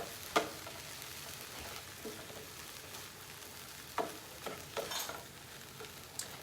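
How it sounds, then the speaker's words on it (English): Fresh garlic frying in a pan, a soft steady sizzle with occasional louder scrapes and stirring clatters, quiet and close. "So I'm going to add the fresh garlic."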